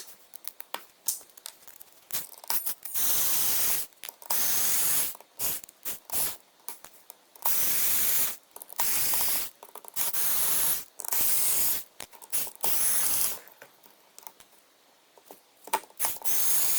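Small screws being removed from a Cat S62 Pro phone with a screwdriver during a teardown, heard as repeated bursts of close, bright scraping and ratcheting, stopping and starting irregularly with short quiet gaps between.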